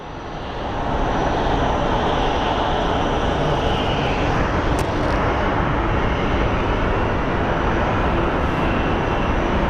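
Frontier Airlines airplane at Phoenix Sky Harbor airport, a loud, steady jet engine roar that swells in over the first second and holds close and constant, with no speech.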